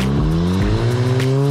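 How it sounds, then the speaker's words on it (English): A new, unfinished and untested buggy driving on a 4WD course: a loud, close engine note that rises steadily as it revs hard, with gear-change dips in the tone. "he's showing off a little here and testing the limits as this is a new, unfinished and untested buggy"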